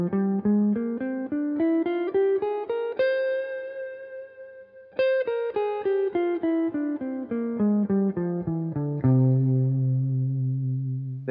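A Mixolydian flat 6 scale rises and falls on an electric guitar run through chorus and distortion effects, one clean note after another, ending on a sustained low chord with no talking.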